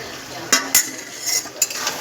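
A metal spoon scrapes and knocks against a pan while mixed vegetable curry is stirred, a few sharp clinks and scrapes over a quiet background with a soft sizzle.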